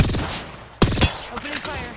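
Gunfire in the video game Apex Legends: two sharp, loud bursts close together near the middle, set against a busy game soundscape of faint effects.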